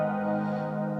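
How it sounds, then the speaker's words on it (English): Guitar run through a Boss PS-3 pitch shifter pedal in detune mode, giving a shimmering chorus effect on a sustained chord that rings steadily and fairly loud for about a second, with no talking. "gets some, some chorus sounds"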